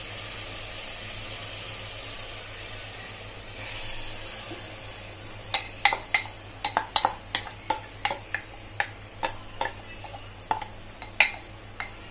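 Chana dal is stirred into soft cooked tomato in a metal pot, with a spoon scraping and clinking against the pot in a quick irregular series of sharp knocks. Close, over a steady low background hum.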